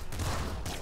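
Laser minigun firing in Nuclear Throne, a sustained dense stream of rapid bursts filling the short stretch at steady loudness, with no other sounds clearly present.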